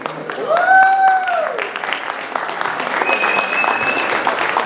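Loud, sustained applause from an audience at a stage event, steady clapping throughout with a few high whistling tones rising and falling over it.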